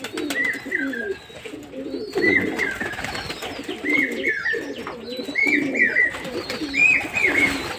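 Pigeons coo close by while bathing on a hot day, repeated throaty rolling coos arriving in regular bursts about once a second, with splashy fluttering between them.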